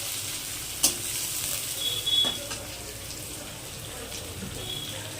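Tomatoes frying in a pan for a thin Bengali rohu fish curry, with a soft steady sizzle and occasional stirring clinks, fairly quiet and close.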